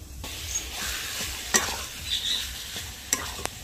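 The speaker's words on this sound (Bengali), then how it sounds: "কাঁচা লঙ্কা রসুনের বাটার সাথে কচু শাক আবার একটু নাড়িয়ে চাড়িয়ে নেব।" Taro leaves fry with garlic and green chilli paste in a pan, a close, even sizzle broken by a few sharp scrapes and clatters of stirring.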